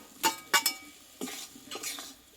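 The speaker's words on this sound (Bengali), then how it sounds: "এবার কষে রাখা কচুগুলোকে আমি দিয়ে দেবো" Fried taro pieces go into a pot of soft lentils and spices, with a few sharp utensil clinks against the metal followed by quieter scraping and stirring over a faint sizzle.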